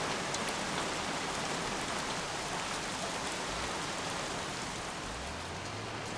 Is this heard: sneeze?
no